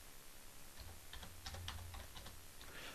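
Typing on a computer keyboard: a quick, irregular run of light keystroke clicks close to the microphone over a low steady hum, with no talking.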